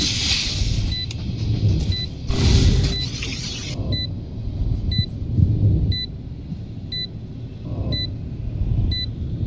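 Repeated electronic beeping from a planted spike in the tactical shooter Valorant, evenly spaced short tones over game ambience, footsteps and low rumble, with an earlier burst of action noise.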